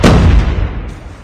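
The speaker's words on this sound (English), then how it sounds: "Grenade out!" A grenade explodes in Call of Duty Mobile ranked play, a single loud, close boom with a heavy low rumble that rolls and fades over about a second.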